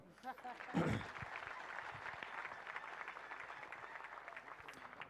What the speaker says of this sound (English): Mama, with your permission, they should clap.